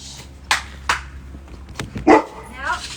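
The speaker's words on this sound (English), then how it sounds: "That's a big dog." A large dog barks several times in short separate bursts nearby, mixed with indoor room sound and brief speech.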